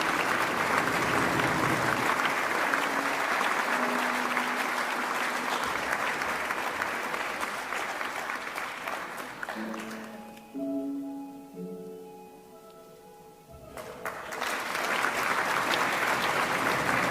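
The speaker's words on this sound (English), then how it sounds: "do keep the applause going for our WA 2025 Australian of the Year, Dian" Loud, sustained applause from a large crowd at the 2026 Western Australia Australian of the Year Awards, fading briefly to a lull with a few tones before swelling back into full clapping.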